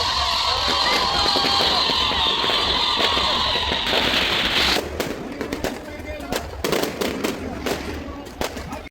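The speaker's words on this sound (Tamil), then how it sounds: "அப்படியே கண்டினியூஸாக வந்து பட்டாசு வெடிச்சிட்டே இருக்கும்" Firecrackers burst in a rapid, continuous crackling string at a Deepavali celebration in Little India, Malaysia, loud and close, then thin into scattered individual pops and bangs.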